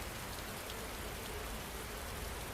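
Steady rain falling as a soft, even hiss of drops on a surface, uniform and unbroken throughout, faint and calm with no other sounds.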